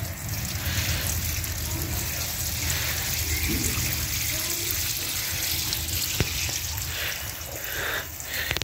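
Water is poured onto the base of a gourd plant in a steady, close splashing trickle that runs almost unbroken to the end.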